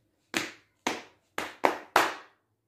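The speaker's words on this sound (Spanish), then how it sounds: "A ver, que voy a acomodar con palmas en la rodilla." Five sharp hand slaps on the knees, spaced in a steady beat with a quick pair near the end, close and moderately loud with no talking, keeping rhythm for a children's song.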